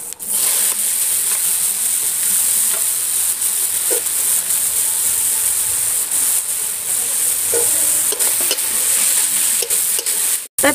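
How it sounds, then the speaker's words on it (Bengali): Grated carrot sizzles and hisses steadily in a hot pan with black cumin while being stirred, a loud, close, continuous frying sound with no talk. "এবারে গ্রেট করা গাজরটা দিয়ে দিচ্ছি"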